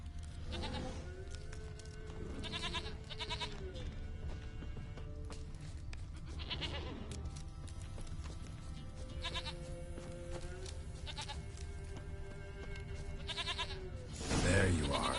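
A goat in The Witcher video game bleats repeatedly, wavering cries spaced through a quiet ambient background, with a louder burst of noise at the very end.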